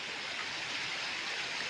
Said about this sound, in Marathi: ह्या विहिरीचं पाणी आहे चालू आहे